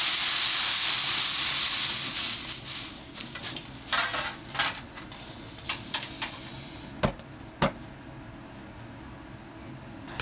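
A broiler chicken is washed in boiling water seasoned with sake and salt in a Sendai restaurant kitchen: a steady steamy hiss and bubbling fades, followed by scattered clinks and knocks of pots and utensils.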